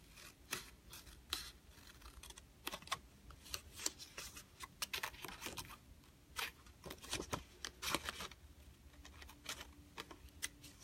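Scissors snip through card paper in a quick series of sharp, irregular cuts, close and fairly quiet, with no talking.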